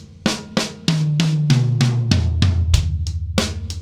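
A drum fill of about a dozen sharp hits, toms stepping down in pitch from high to low, played close and loud with no talking.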